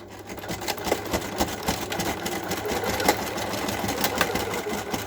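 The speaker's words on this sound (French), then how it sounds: "je vais coudre le deuxième morceau" A sewing machine stitches fabric for a simple pouch, its needle chattering in quick, steady bursts with a low motor hum, close and moderately loud, with no talking.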